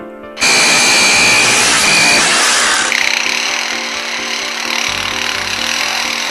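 A bird imitates a power drill grinding into stone, a loud, continuous whirring whine that starts abruptly and then eases to a steady drone.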